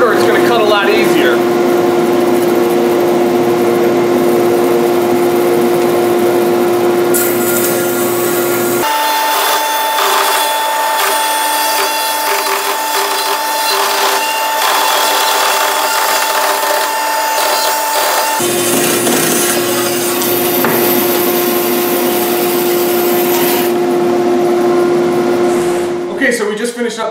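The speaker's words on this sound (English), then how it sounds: "So let's cut that last piece through." A bandsaw cuts through a short piece of lumber from a milled log, a steady loud machine drone with a harsher, denser cutting stretch in the middle before settling back to the running hum; a voice speaks over it.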